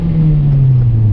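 A manual-transmission car built up to look like a Mitsubishi Evo accelerates after the gas pedal is pressed, giving a steady, loud engine drone with a slowly falling pitch and no talking.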